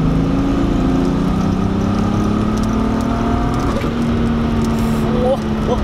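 A VW Golf 2 VR6 Turbo of about 380 hp accelerating hard out of a bend in fourth gear, its engine a loud, steady rising drone heard from inside the car under talk.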